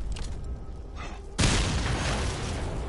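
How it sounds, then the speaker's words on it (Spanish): A large explosion in the Mad Max video game bursts in suddenly and loudly with a broadband blast, then rumbles on, following a quieter stretch of game ambience. "la explosión es más grande de lo que recordaba"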